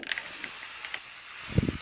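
Borate solution is sprayed onto pine wood in a bathroom under renovation: faint short hissy bursts from a sprayer, then a low knock near the end.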